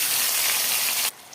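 Chopped tomato hits hot oil tempered with black cumin seeds for a boal fish curry, giving a loud, close, broad sizzle that cuts off abruptly after about a second.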